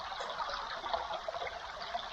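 Fresh water trickles steadily from a refill source on a coast-to-coast hike, a close, continuous babbling flow with no voices.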